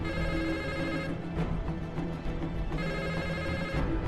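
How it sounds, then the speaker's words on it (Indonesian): A telephone rings in a film scene, a steady electronic ringing tone that repeats in bursts over several seconds, loud and up close with no voices. "kemudian telepon pun berdering."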